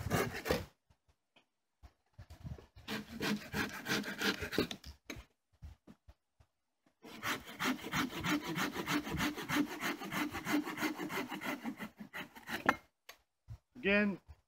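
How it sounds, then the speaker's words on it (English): A Silky Big Boy 2000 folding hand saw rasps steadily through hard ash wood in quick back-and-forth strokes, with a pause mid-cut before the strokes resume. "This saw makes quick work of it."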